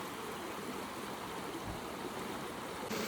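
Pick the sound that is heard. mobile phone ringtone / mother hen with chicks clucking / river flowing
river flowing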